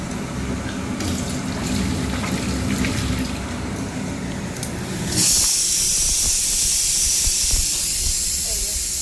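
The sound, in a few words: pressure cooker hissing steam while cooking dalia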